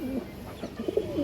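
A pair of Kaldom pigeons coos close by, soft low burbling calls rising and falling in a few short bursts.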